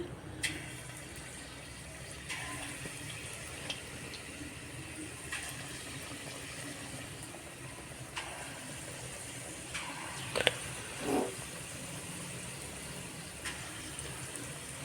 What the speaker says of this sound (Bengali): আবারও তেলের মধ্যে ছেদ দিচ্ছি সেই একইভাবে